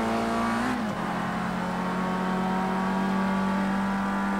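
Race car engine in the Project CARS 2 racing game, a loud sustained high-revving whine with a brief shift dip early on, then steady full-throttle drone, no talk.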